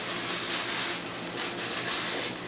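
Cooking spray hisses over cod fish fritters sitting in a pan, with broad airy bursts that swell and fade in two or three pulses across a quiet kitchen.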